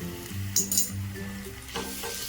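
Onion with ginger-garlic paste and shahjeera sizzling in a pan for prawn fried rice, a steady close frying hiss with a few brief clinks of a utensil against the pan.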